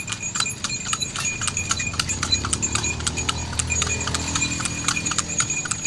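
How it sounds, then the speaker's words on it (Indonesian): A horse-drawn delman cart passes at night, its hooves clip-clopping in a steady, close, fairly loud rhythm over a low rolling rumble, with no talking. "suara delman pada malam hari"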